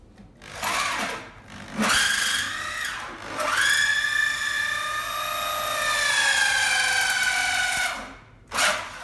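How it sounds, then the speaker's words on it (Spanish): Electric drill boring a hole through wood while installing a split air conditioner, a loud whining motor that spins up, runs steadily with rising pitch for several seconds, then stops, nearby and alone. "Para esta perforación podemos utilizar un taladro normal."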